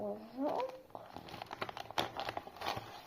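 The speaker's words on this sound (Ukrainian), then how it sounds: "Ось наш пакетик, відкриваємо його." A paper surprise packet is torn and opened with a run of crinkling, rustling paper sounds in close-up, and a voice is heard briefly at the start.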